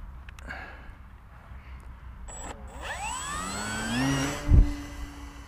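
The motor of a Jumper T-Lite RC fixed-wing plane spins up during takeoff from long grass, a faint whine rising sharply in pitch over a few seconds before a brief thump, against quiet outdoor background.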